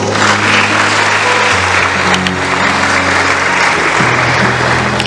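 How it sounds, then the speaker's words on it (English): Audience at a school investiture ceremony applauding, dense clapping that stays loud and steady for the whole few seconds, with a faint low hum beneath. "let us now put our hands together and give them a loud applause"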